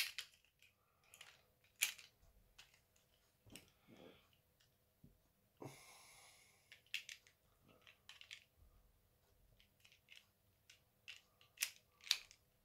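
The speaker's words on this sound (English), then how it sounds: "take the thrusters, and there's wee like grooves, and they go in there until you hear a wee click" Plastic thrusters on a Megazord toy snap into their grooves with small, sharp, close clicks, scattered irregularly among quiet handling rustles at low volume.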